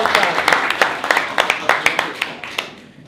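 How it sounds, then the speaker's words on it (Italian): Audience applause at a public event thins out into scattered individual claps, distinct sharp hand slaps spaced irregularly and gradually fading toward the end. "allora rifacciamo un applauso a Daniele."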